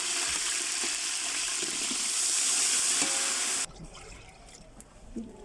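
Loud, dense sizzling of onions frying in a pot, a hissing crackle that suddenly drops away, leaving quiet clinks and faint movement.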